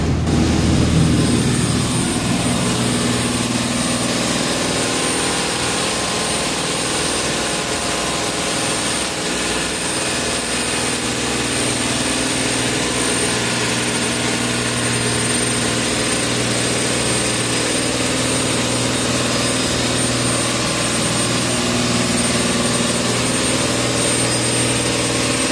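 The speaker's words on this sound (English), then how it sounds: "by the FPT NEF 450 marine engine, set at 450 horsepower at 3000 RPM" Twin FPT NEF 450 marine diesel engines, rated 450 horsepower and driving shafts through ZF85A gearboxes on a Precision 43 flybridge cruiser, run steadily around 2400 RPM, a loud continuous droning hum with a whining overtone and no talk.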